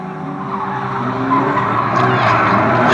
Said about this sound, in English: plenty of cars spun out, trying to make their way back on to the track